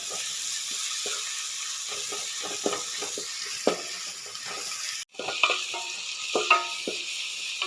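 Ingredients sautéing in a pan for egg curry, giving a steady close sizzle punctuated by repeated spatula scrapes and stirring knocks, with a brief cut partway through.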